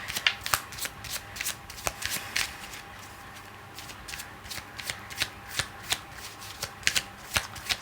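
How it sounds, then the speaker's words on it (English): Tarot cards are riffled and shuffled from a deck in a quick, crisp run of soft papery flutters and taps, close and quiet with no talking. "Let me pull one card from this deck as final advice for you"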